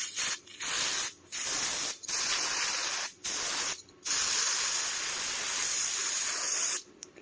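Brake cleaner sprays from an aerosol can in a series of close, loud hissing bursts, several short blasts followed by one long continuous spray, during a lube job on a Polaris Magnum 500 ATV.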